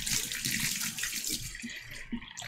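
Tap water runs steadily from a kitchen faucet into a tablespoon measure while soft pretzels are being prepared, a close, continuous splashing hiss with no talk.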